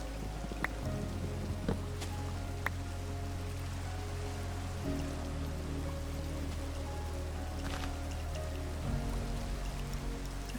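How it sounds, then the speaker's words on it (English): Steady rain falling in Minecraft, an even hiss of drops with a low watery rumble beneath, broken by a few faint clicks and no voices. "I'm just loving the sound of the rain so much."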